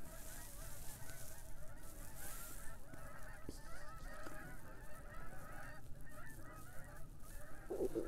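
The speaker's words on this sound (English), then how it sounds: "You hear the geese?" Geese honk repeatedly from a distance along a rural hedgerow, their calls layered in a steady, moderately loud chorus over an outdoor background.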